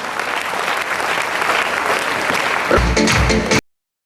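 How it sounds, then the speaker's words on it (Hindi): Audience applause welcoming a speaker onto a stage: a thick, sustained roar of many clapping hands, loud and even throughout, with a few heavier thumps near the end before it cuts off abruptly. "एक बार प्लीज वेलकम, जोरदार तालियां, कम ऑन द स्टेज,"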